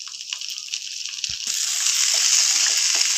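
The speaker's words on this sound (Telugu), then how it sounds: "ఆయిల్ వేడైంది. శుభ్రం చేసి పెట్టుకున్న మునగాకు వేస్తున్నాను." Moringa leaves dropped into hot oil in a pan set off a sudden bright sizzle after a brief clatter, the hiss swelling and holding steady to the end, close and loud.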